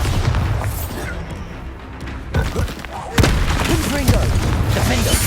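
Bombarda spell blasts go off in Hogwarts Legacy, a fantasy video game, with several heavy booms and sharp thuds amid ongoing combat noise.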